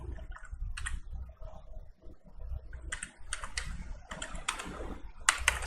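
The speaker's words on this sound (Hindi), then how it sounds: "scuba-diving.com टाइप कर देता हूँ" Someone types on a computer keyboard while working in Photoshop, sharp clustered key clicks in uneven bursts, close and clear over a low background hum.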